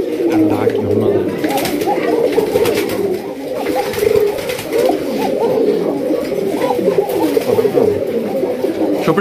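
Koka breed pigeons cooing at a pigeon fair, a steady, dense murmur of overlapping coos from many birds, loud and close, with crowd noise underneath.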